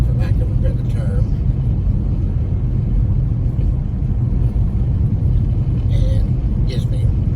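A car drives through a winter storm with traction control switched off and all four wheels engaged, giving a loud, steady low road rumble throughout while a person talks over it.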